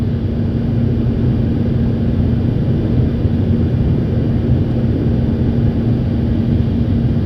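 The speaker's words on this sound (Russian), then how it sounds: "Закрылки 15 опускаются. Опускается все." Steady, loud cockpit drone of an An-225 Mriya in a flight simulator game while flaps lower to 15, an unbroken low engine roar with a faint hum and no voices.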